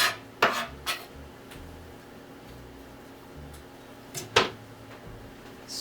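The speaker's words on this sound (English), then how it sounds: "Stir that around" A utensil stirs chopped onion into a beef mixture in a skillet, making a few sharp scrapes and clinks against the pan over a low sizzle, close and fairly quiet.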